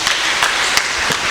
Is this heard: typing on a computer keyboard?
no